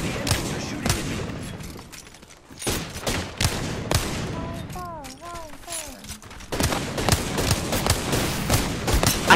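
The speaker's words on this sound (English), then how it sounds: "The enemies are shooting at me." Enemy gunfire in the Apex Legends battle royale game rings out in several rapid bursts with sharp impacts, broken by pauses, while a voice chirps briefly in the middle.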